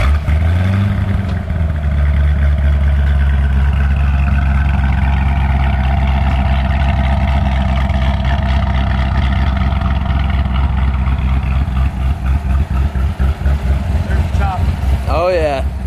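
A loud, deep cammed car engine idling close by with a rough, choppy rhythmic lope, steady throughout, a brief rev-like flutter near the end.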